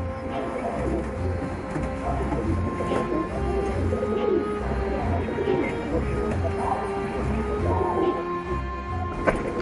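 Pigeons cooing on a street where everyone kept pigeons, soft low repeated coos in a steady rhythm against a busy background of other bird calls and faint noise.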